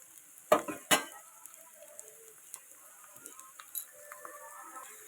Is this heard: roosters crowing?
no